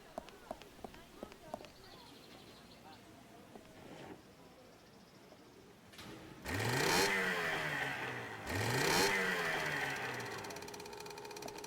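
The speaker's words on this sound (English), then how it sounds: "There is a boat there that I can start up." A boat engine in the Secret Files 2 video game cranks and starts, then revs up twice in rising, roaring swells after some quiet clicks, fairly close and alone.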